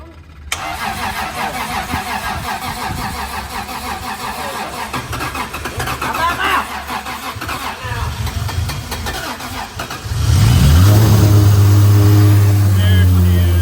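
A Toyota Supra rat rod engine cranks after a stretch of workshop noise and voices, then catches and roars to life loud and close, settling into a strong, steady rumble with rising revs.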